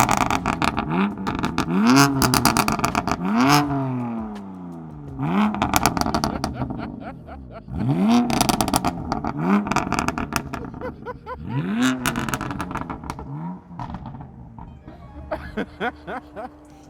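An MG Cyberster roadster's exhaust revs repeatedly, each blip rising and falling in pitch in a series of loud, close bursts with brief pauses, and voices and laughter mixed in.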